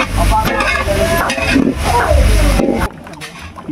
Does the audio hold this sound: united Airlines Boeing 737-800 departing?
no